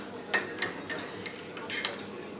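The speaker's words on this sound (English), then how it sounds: "Now we're gonna stir it well." Spoon stirring instant coffee with sugar and hot milk in a cup, giving a handful of light, separate clinks in an uneven rhythm, faint and close, with no voices.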